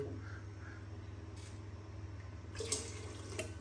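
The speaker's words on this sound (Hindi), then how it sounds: "और भी पानी डाल दिया" Water runs and trickles steadily over a low steady hum, with a brief splashy burst near the end as more liquid goes in.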